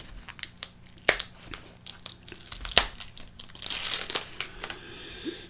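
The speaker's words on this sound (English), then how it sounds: "let's just cut it open. Don't want to damage the box." A cardboard box is cut open by hand, with crinkling packaging, sharp snaps and tearing scrapes in an irregular close sequence, building to a denser rustle near the end.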